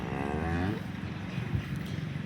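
Several local Banaskantha cows, including red cows, moo in long drawn-out calls on a farm, one low bellow giving way to overlapping lowing with steady background noise.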